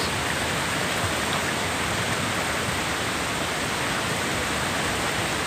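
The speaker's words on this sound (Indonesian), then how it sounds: "Nih, ini deras banget nih. Air terjunnya dari sono bos tuh. Air terjun bos." A strong waterfall at Curug Ciparay on Gunung Parentas rushes without pause, a dense, loud and even wash of falling water with nothing else heard.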